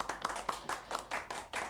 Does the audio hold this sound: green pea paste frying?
no